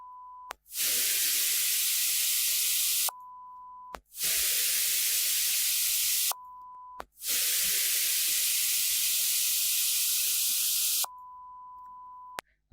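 Loud white noise runs through a sidechain compressor in three long, flat bursts of hiss that cut off abruptly, with a steady pure tone sounding in the short gaps between them.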